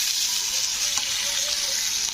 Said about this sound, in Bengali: তো পেঁয়াজগুলোকে একটু হালকা লাল লাল করে ভেজে নিতে হবে।